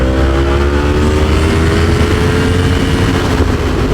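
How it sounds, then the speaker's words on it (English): A Yamaha R1M motorcycle exhaust rumbles loudly and steadily at close range, a deep throbbing drone with a slowly rising tone. "How could you not want this exhaust sound in your life all the time?"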